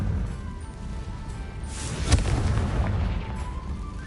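The Confringo spell in the Hogwarts Legacy video game erupts in a booming, fiery explosion that swells from a steady rumbling bed, with a sharp burst at the peak followed by a rolling, crackling tail.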